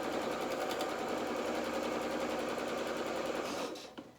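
A sewing machine stitches a dress front panel in a steady, close, continuous whirring run that stops abruptly near the end.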